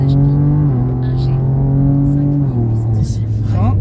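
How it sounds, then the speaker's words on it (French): Race car on the Mireval track, a 508 hp machine, its engine droning loud and close as it accelerates progressively, pitch stepping through gear changes, with speech over it. "Et là je réaccélère progressivement."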